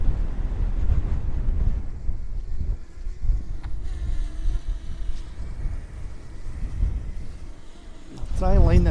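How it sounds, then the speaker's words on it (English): Strong, gusty wind buffets a DJI Mini 2 drone during launch, producing a continuous heavy low roar and rumble of wind noise across the whole stretch. "the wind has taken her just for launching"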